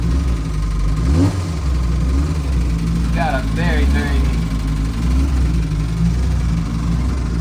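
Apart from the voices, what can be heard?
small classic car engine revving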